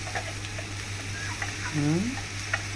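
Close, crackling sizzle of spices frying in hot oil for tempering a leafy-greens chutney, with small popping spurts and a brief voice over it.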